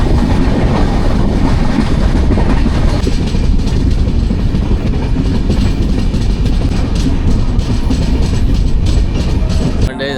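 A passenger train on the Konkan route from Mumbai toward Malvan rolls along loudly from inside, with a steady rumble and rhythmic clickety-clack of wheels throughout, ending in a brief sharp sound.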